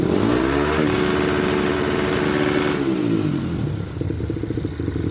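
A motorcycle engine fitted with a UMA Racing CDI revs hard near its 9,000 RPM limiter, holding a loud buzzing drone that sweeps up, stays pinned, then drops and idles roughly with a rapid stutter.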